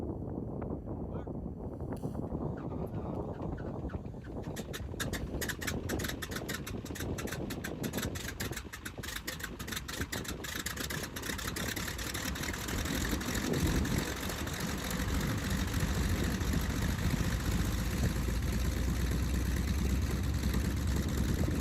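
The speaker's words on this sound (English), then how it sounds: "Here comes an engine start." A Waco YMF-5C biplane engine turns over and catches, rising from sputtering clicks into a steady, loud rumbling idle with wind buffeting the microphone.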